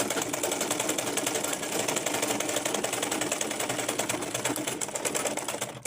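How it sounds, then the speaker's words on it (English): A sewing machine runs steadily, stitching a straw mat, its rapid, even stitching chatter close and continuous for several seconds without pause. "take it to your sewing machine. You sew from this end straight down."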